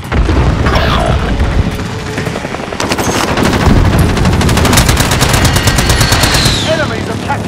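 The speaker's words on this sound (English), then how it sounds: "Be advised, friendly precision airstrike inbound." Rapid machine-gun bursts and heavy explosions from a precision airstrike in Call of Duty Warzone multiplayer, loud and nearly continuous, with staccato automatic fire rattling over booming impacts.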